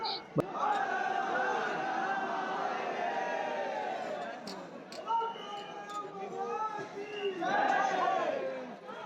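A dense crowd of pilgrims presses close around a temple in Ujjain on Maha Shivratri, many voices overlapping in loud, continuous chatter and calls, with occasional sharp clinks rising above the noise.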